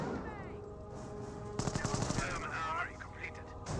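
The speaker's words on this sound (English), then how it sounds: "That is a good garrison for an MG42." MG42 machine gun bursts from a Company of Heroes 1 match: dense rapid rattling fire mixed with other battle noise, swelling into a sharper, louder stretch midway.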